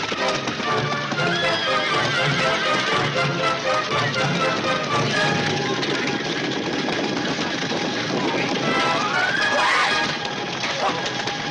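Horses neighing and galloping in a Roman Empire era battle film, loud whinnies and busy hoof clatter over a dense, continuous wash of commotion and rumbling noise.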